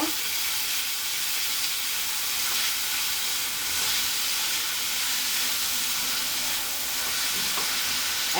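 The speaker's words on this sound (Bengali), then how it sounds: "মিশিয়ে নিয়ে একটু ভাজা ভাজা করে নেব" Onion, garlic and ginger paste fries in oil in a pan for a fish dopiaza, giving a steady, dense sizzle and hiss that holds even and close throughout with no talking.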